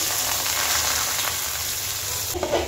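Drained rice frying in a pan for pulao, a dense, loud, steady sizzle with faint stirring underneath, no talking.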